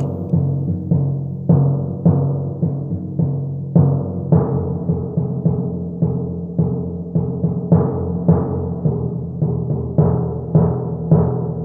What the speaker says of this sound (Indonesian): Timpaninya bunyinya gini.